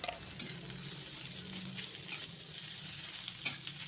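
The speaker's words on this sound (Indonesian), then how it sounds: "Nasinya tinggal segini, jadi ini tak goreng semua ya, teman-teman, biar bisa dimakan bersama." Rice fries in a pan with steady, fairly quiet sizzling and crackling, plus a few soft stirring scrapes, continuous throughout with no voices.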